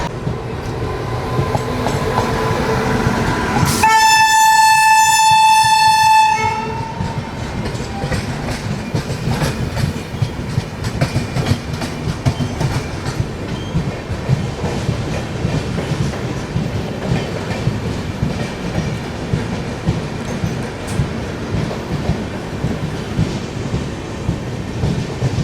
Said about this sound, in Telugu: ఈస్ట్ కోస్ట్ అనుకుంటా, ఈస్ట్ కోస్ట్ ఎక్స్ప్రెస్